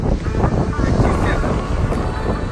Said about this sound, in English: A little bit windy out here today.